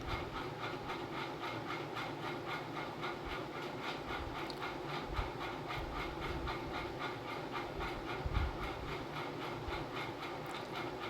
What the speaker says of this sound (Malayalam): ഇതിങ്ങനെ എണ്ണയിൽ കിടന്ന ഒരു സൈഡ് കുക്കാവുമ്പോൾ അടുത്ത ഭാഗം മറിച്ചിട്ട് കൊടുക്കാം